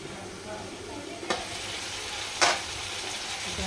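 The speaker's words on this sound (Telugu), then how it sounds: "ఇలా మధ్య మధ్యలో కలుపుకుంటూ ఉండండి" Bottle gourd curry stewing in a pan hisses steadily. A spoon scrapes through it and knocks against the pan twice, once briefly and once more sharply, close by.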